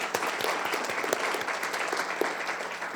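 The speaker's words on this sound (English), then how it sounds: "round of applause for Wade pulling the speaker series together" An audience at a speaker series on biodiversity breaks into steady applause, many hands clapping together in a dense patter with a few sharper individual claps standing out, moderately close.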